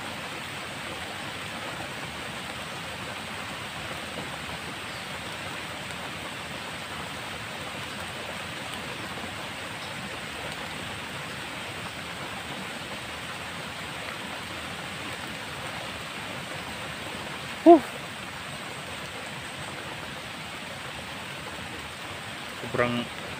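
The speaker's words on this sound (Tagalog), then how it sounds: "Yan o, lakas ng ulan guys." Heavy rain outdoors: a constant, even wash of broadband hiss that goes on throughout, with a brief sharp knock near the end.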